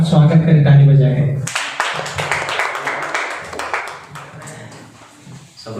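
At a Sunday evening church service, a congregation claps to welcome the pastor. A voice speaks first, then dense applause breaks out and carries on for several seconds, thinning toward the end.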